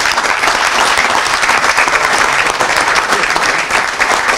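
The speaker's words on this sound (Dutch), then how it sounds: "mogen we met recht een applaus geven aan voor iedereen die zich hiervoor ingezet heeft" Dense, sustained applause fills a chapel during an anniversary celebration honoring volunteers, a steady loud wash of many hands clapping together without a break.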